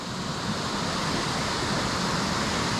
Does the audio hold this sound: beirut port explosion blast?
no